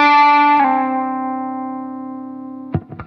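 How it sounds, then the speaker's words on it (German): Electric guitar with distortion playing a sustained note that slides between pitches, ringing loud and clear with effects, then short muted picks and string noise at the end. "indem ihr meinetwegen den tieferen Ton anschlagt und dann ein Slide aufwärts zum höheren Ton macht"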